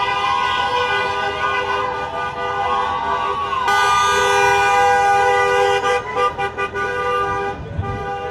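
Car horns honk loudly and continuously at a street protest in Los Angeles, with several horns overlapping into a dense, sustained blare and a few choppy toots near the end.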